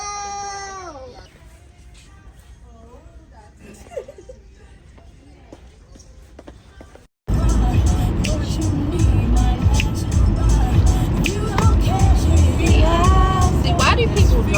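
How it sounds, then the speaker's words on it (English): A car speeds past on a road: after a stretch of voices, a sudden loud, broadband rushing roar takes over and holds steadily to the end. "why do people drive that fast?"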